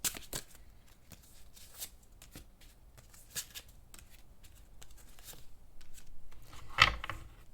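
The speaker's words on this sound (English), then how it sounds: "I'm also gonna pull these 3 cards from this deck" Tarot cards are shuffled and drawn from a deck nearby, giving soft riffles and sharp slaps and flicks scattered across several seconds, with a louder snap near the end.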